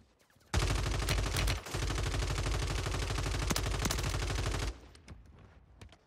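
An XM4 SMG in Call of Duty on Rebirth Island fires one long, loud, rapid burst of several seconds, up close, after a brief sharp shot near the start.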